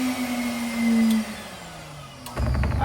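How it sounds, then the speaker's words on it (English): An RDZ-100 paper jogger and aerator blows air in a steady whirring hum, its tone dipping briefly and then sliding lower, before a louder burst of rattling vibration near the end. "There's the aerator just there, adjustable amount of air"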